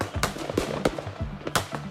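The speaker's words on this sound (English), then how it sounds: "fireworks are loud" Fireworks bursting in a quick irregular series of sharp cracks and booms, some nearer and louder than others, with crackling trails between them and no voices.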